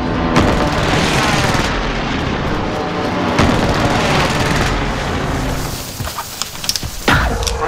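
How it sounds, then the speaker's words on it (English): Loud, dense rumbling airstrike explosions and roaring aircraft noise in Call of Duty Warzone, sustained and booming, with a sharper burst of crackling blasts near the end. "Bringing down an airstrike."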